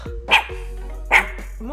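Dog indoors barking at someone outside the window, two loud sharp barks about a second apart, close by, with a person talking in the background.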